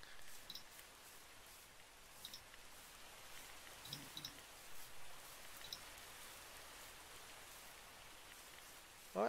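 Soft, steady rain patter in the video game RLCraft, faint and even, with a few small clicks scattered through and a louder burst at the very end.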